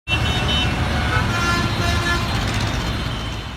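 Loud, close road traffic with engines rumbling and a sustained car horn sounding over the continuous roar.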